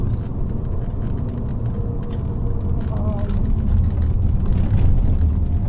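Steady low road rumble and engine drone inside a moving Peugeot 407 Coupe, a continuous mid-level hum that swells slightly toward the end, with a voice speaking over it.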